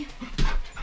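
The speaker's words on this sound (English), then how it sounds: "Puppy." A puppy pants in quick breaths and lets out a short whimper, close and alone, in under a second.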